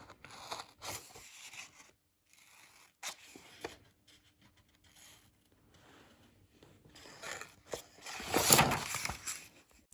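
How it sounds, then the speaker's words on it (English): Scissors snip paper along printed lines for a cardboard food van model, giving scattered short cuts and rustles with quiet gaps and a louder burst of crinkling near the end. "Wherever there's lines, I'm just going to put a little cut."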